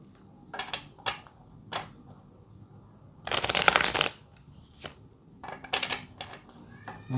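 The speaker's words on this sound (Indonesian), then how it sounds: "Sebentar ya, di shuffle dulu." Tarot cards being shuffled, several short papery riffles and taps followed by one longer, louder riffle in the middle, then a few more light flicks, close and quiet with no talking.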